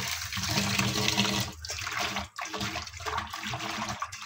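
Bitter gourd (ampalaya) being washed under a steady stream of running tap water, a continuous close rush of water with brief dips as the vegetable moves through the flow, no talking.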